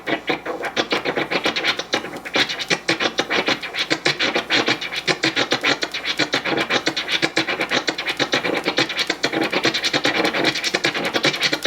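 Turntable scratching of a short snare sample in a Kermit scratch pattern, with dense, rapid back-and-forth scratch strokes running continuously and loudly throughout.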